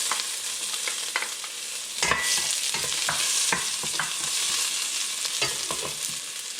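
Garlic sautés in hot oil in a pan for ginisang munggo with pork hock, making a close, bright sizzle with repeated spatula scrapes and taps, and no voices.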